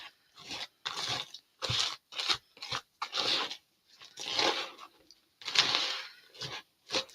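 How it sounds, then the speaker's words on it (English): Crunchy cornflakes being stirred into caramel for caramel cornflake bars, heard as a run of short, dry, crackling bursts in an irregular rhythm, close and moderately loud, with no talking. "Crunchy. Cornflakes."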